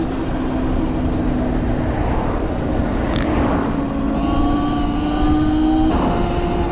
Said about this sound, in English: Even though this is also a mid-drive motor with a chain, it's rather quiet.